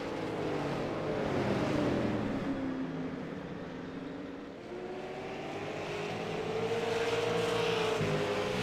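Race cars roaring around a short oval track on championship night at a local speedway, engines droning and shifting pitch as the pack circles, a steady loud rumble with no gaps.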